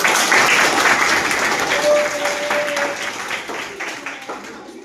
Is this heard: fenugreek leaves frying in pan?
no